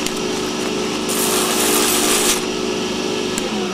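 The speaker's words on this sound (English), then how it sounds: "Sand it really quick." A power sander working a small wooden spinning top, a loud continuous whir with a brighter rasping stretch in the middle.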